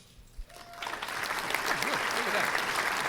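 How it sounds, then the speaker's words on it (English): An applause button on a live show stage triggers a canned applause effect that swells in after a brief thump and keeps going as a dense, even wash of clapping while a voice talks underneath. "Hey, I've got an applause button"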